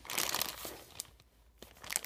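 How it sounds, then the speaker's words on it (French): Plastic sachet of Playmobil set 5632 pieces torn open, a dense close crinkling and rustling that swells, pauses briefly and returns. "j'ai ouvert un sachet"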